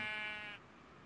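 A single short, nasal sheep bleat from Minecraft is heard clearly and cut off abruptly, with near silence after it.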